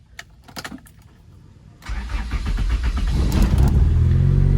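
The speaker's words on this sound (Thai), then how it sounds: "มาฟังเสียงเครื่องยนต์กันดีกว่า" Keys rattle briefly, then a Honda Accord automatic's engine cranks and catches, settling into a loud, steady running rumble close by.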